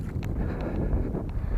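Gusty wind buffets the microphone in a loud, low rumble during an outdoor RC plane flight, with a few faint clicks and rustles scattered through it.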